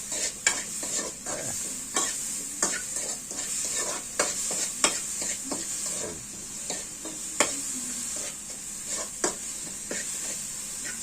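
Small fish sizzle in a hot pan while being stirred, a steady frying hiss broken by repeated scraping strokes of the spatula at an irregular rhythm, close and moderately loud with no talking.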